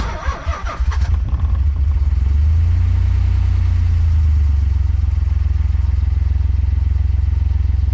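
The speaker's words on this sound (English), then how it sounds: "them lifters are so loud. Sounds like a tractor." A turbocharged Nissan 300ZX engine with ignition timing off cranks and catches, then settles into a loud, rough idle with a rapid, steady ticking clatter from loud lifters, close by.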